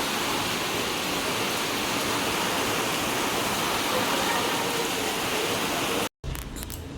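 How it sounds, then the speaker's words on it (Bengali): Heavy rain pours down in a steady, dense roar at night during a power cut at home, continuous and loud throughout before a brief dropout near the end. "দেখো কি জোরে বৃষ্টি হচ্ছে"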